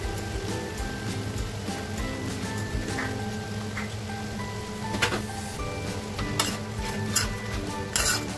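Fried paneer added to a chilli pan and stirred, with steady sizzling and frying under scraping, clinking utensil strokes against the pan, loud and close throughout, with a few sharper clatters near the end.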